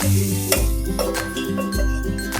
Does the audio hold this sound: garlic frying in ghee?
yes